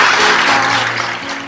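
Audience applause fills a comic convention evening show at Còmic Martorell 2023 as a dense, steady wash of clapping that fades slightly toward the end, with faint tonal music underneath.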